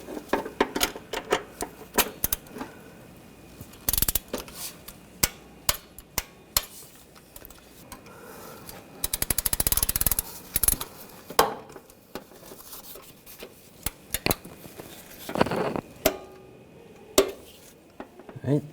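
Metallic clicks and ratcheting taps from a torque wrench tightening the rear starter bolts on a 2004-2012 Chevrolet Colorado 3.7L, coming in scattered close bursts with a denser stretch of rapid clicking midway and no talk.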